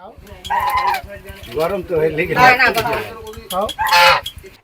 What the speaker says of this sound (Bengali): এভাবেই হাঁসের সঙ্গে কথা বলেন জাকির হোসেন।